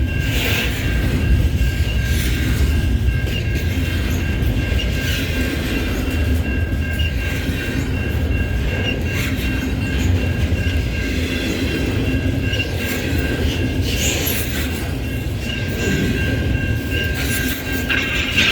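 An intermodal freight train of containers on flatcars rolls past at close range in Neenah, a continuous heavy rumble with rattling wheel clatter that stays loud and unbroken the whole time.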